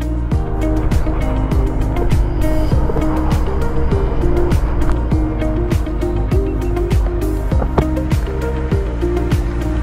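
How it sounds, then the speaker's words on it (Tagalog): Many cars travel along the highway onto Cabanatuan Road in Nueva Ecija, Philippines, a steady, loud engine and road drone with repeated passing swells throughout. "Ang dami sasakyan."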